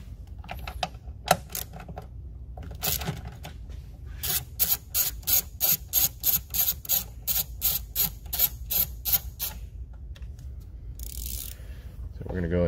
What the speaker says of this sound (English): we need to remove this 10mm bolt that is securing the coolant tank